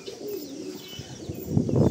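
Pigeons in a loft give soft, low cooing calls, several overlapping close by, growing fuller and louder toward the end over a faint background hiss.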